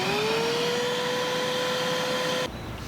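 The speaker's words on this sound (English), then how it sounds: "I've never had to vacuum out the cabin filter compartment before" A vacuum cleaner runs steadily, whining and whooshing as it cleans out the cabin filter compartment of a Subaru BRZ / Scion FR-S car, then cuts off abruptly near the end, leaving a quieter background.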